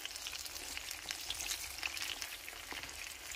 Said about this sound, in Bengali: এখন দেখুন, আমি আস্তে আস্তে এটাকে একটু ঘুরিয়ে ঘুরিয়ে দিব।